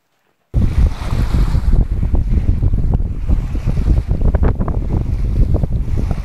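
Steady wind roars over the microphone while sailing a sailboat on Sandefjordsfjorden in a gusty westerly, with water rushing and slapping along the hull, loud and continuous throughout.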